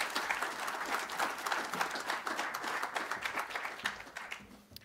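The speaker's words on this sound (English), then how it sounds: "Give a warm round of applause" An audience at a speaking event gives a speaker a round of applause, a dense steady patter of many hands clapping that fades toward the end, moderately loud with no voices.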